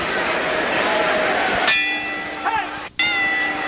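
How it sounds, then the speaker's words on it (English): A boxing ring bell at a WBC and Ring welterweight championship bout in Landover, Maryland, clangs twice with ringing, sustained tones over arena crowd noise. "the bell will end the first round in just 10 seconds here in Landover, Maryland"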